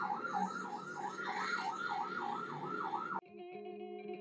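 Ambulance siren wailing in a steady rising-and-falling cycle amid road traffic, loud and close, then cutting off abruptly near the end as a lower steady tone takes over.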